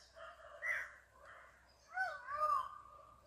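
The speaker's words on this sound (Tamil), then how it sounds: "மயில் கூவுற சவுண்டு கேக்குது பாருங்க." A peacock calls in quiet foothill scrub near a check dam outside Coimbatore, two faint, distant wailing cries with a pause between them and little else around.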